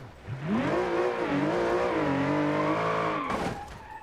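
A Mercedes AMG in BeamNG.drive howls with a loud revving engine whose pitch rises and dips, tires squealing as it skids, ending in a sharp scraping burst before the engine drops away.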